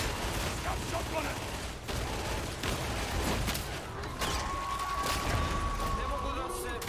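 Rapid gunfire from an online shooter video game, sustained bursts and shots layered over a dense, loud battle soundscape, with players talking over it.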